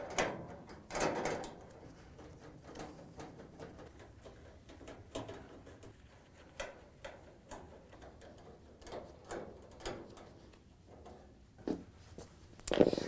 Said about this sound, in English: Use a 5/16 inch nut driver to loosen and remove each of the screws.